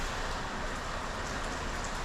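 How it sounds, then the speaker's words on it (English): Rain falls steadily on the Appalachian Trail in Cumberland Valley, Pennsylvania, a dense even patter that stays at one level with no other sounds. "Has the rain been bothering you today, Riley?"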